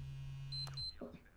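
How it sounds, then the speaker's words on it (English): A pager in a home setting emits a short electronic beep over a low steady hum, followed by a brief tonal blip; faint and compact, with no talking. "Excuse me, I'm being beeped."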